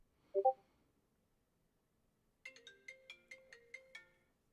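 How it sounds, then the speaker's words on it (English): A mobile phone ringtone plays a quick bright melodic phrase of about eight tones, faint and alone, after a brief soft vocal sound. "Oh, I should mute my phone while I'm doing this."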